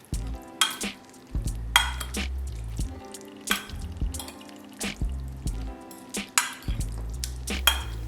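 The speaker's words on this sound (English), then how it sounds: "we're just gonna smoosh it and it's time to mix all together" Baked feta and tomatoes get mashed and stirred together in a pan, giving soft wet squelches, gentle scraping and a few clinks of the utensil in an irregular rhythm, close and fairly quiet, with no voices.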